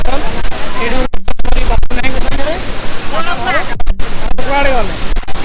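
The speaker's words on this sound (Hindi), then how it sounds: "देवधर वाटरफॉल" Deojhar waterfall, a natural waterfall, roars as a steady broadband rush of falling water throughout, with people talking over it and a few brief dropouts.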